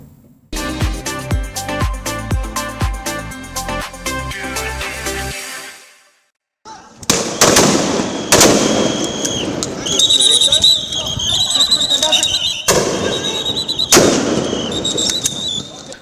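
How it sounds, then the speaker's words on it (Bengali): Police gunfire at a student protest at Chankharpul junction in Dhaka during the anti-discrimination March to Dhaka: after an opening musical sting and a short gap, loud crowd noise carries several sharp, irregular bangs. "চাংখারপুলে এমন ভয়াবহ হত্যাকাণ্ড চালাতে দেখা যায় পুলিশকে। বৈষম্য বিরোধী ছাত্রদের মার্চ টু ঢাকা কর্মসূচি ঠেকাতেই পুলিশ গুলি চালায়।"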